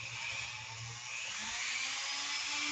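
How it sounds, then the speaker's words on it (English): A Dremel rotary tool grinds steadily on a thin-walled turned vessel, giving a continuous high whine that stays close and even for a few seconds with no talk. "Forgive the Dremel."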